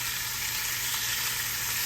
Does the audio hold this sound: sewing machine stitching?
no